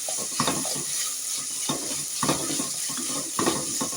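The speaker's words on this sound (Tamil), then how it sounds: "நல்லா இஞ்சி பூண்டு வாசனை போகிற வரையும் வதக்கிட்டு" Ginger garlic paste sautés in a pan for a mutton leg curry, a soft sizzle broken by a steady rhythm of spoon scrapes and stirring strokes close by.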